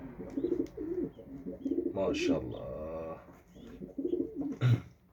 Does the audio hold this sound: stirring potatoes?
no